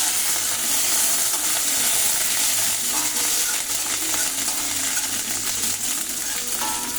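Curry leaves crackling loudly in hot oil with cumin seeds and chana dal, a dense, steady sizzle and hiss that runs the whole time without pause.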